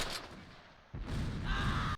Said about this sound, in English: those mortars were on point